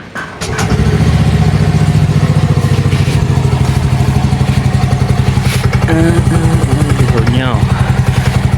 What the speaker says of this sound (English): Then now we'll start the engine.